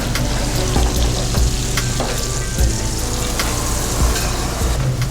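Escolar fish searing in butter in a hot pan, a loud, continuous sizzle and crackle with occasional sharp pops and spatters, no voices.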